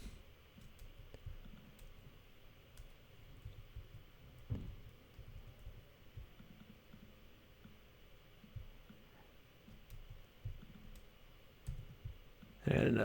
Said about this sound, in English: I'm just double clicking to get inside the symbol